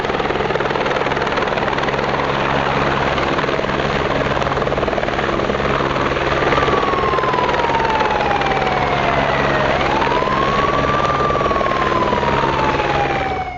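A helicopter carrying a donor heart descends toward a college campus landing zone, its rotor and engine roaring loud and steady throughout, with a siren wailing alongside in the latter half.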